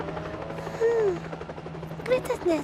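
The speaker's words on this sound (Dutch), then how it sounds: "Dat is een helikopter." A sound effect of a helicopter approaching in a Frisian children's story, a rhythmic whirring rotor chop beneath a narrator's voice, with short bright whistling tones rising over it.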